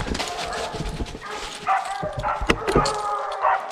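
Hunting dogs barking at a bear treed on posted property, a jumble of excited barks and yelps at middle distance among rustling brush, with a person talking nearby.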